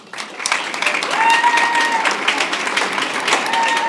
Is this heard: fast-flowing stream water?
no